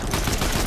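A single loud gunshot burst in Fortnite, close and dense, filling the brief moment with a sharp crack and rumbling noise.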